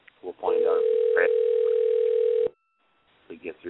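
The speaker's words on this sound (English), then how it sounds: "It's ringing." A single long, steady ringback tone sounds on a telephone call, holding for about two seconds with faint talk around it and quiet after.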